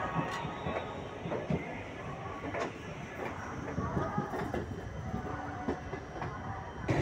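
A passenger train on the Howrah-to-Varanasi route, pulling out of Asansol, sounds from on board as a continuous rumbling roar with scattered wheel clicks and rattles, steady and unbroken, faint voices in the background.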